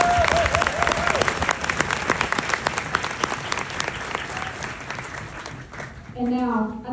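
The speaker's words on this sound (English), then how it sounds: "please join me in a round of applause for the cadre." A crowd at an Army basic training graduation ceremony breaks into sustained, dense applause, loud and continuous with a few cheers, tapering near the end as a voice over the loudspeaker resumes.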